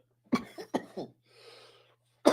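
A person coughs in short harsh bursts, two near-together pairs, then a breathy pause and one more cough at the end, close to a microphone during a live football watchalong.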